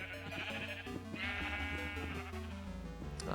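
Sheep in the Minecraft video game bleat over a steady, busy background, with several overlapping calls across a few seconds and no talking.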